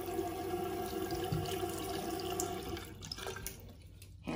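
Water running from a bathroom tap at a beach resort, a steady close hiss of flowing water that thins out toward the end.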